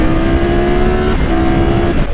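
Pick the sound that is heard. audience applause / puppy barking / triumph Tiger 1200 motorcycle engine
triumph Tiger 1200 motorcycle engine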